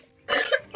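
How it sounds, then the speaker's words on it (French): A cat gives a single short, sharp cough, close and abrupt, in an otherwise quiet room. "Oh, tu tousses encore un peu, mon chat."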